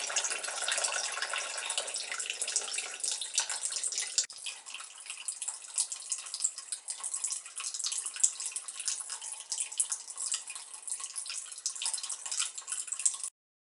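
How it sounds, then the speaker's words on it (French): An indoor bamboo fountain with a straight spout pours a steady, hissing stream of water with light splashing, continuous and close, with no talk. "Donc voilà la fontaine avec le bec versant droit."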